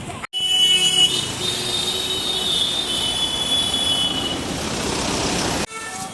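A Kolkata tram passes at Hatibagan, with loud, close, sustained metallic wheel squeal over a rumbling rail roar that holds steady for several seconds before cutting off.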